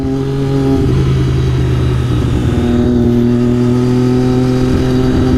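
Triumph Daytona 675R motorcycle engine under way, a loud, steady, close hum that shifts pitch once early on and then holds an even tone with no talking.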